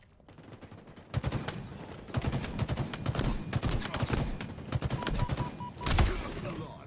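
Video game gunfire rattles in rapid, dense bursts, loud and nearly continuous after a quiet first second, with a heavier blast near the end.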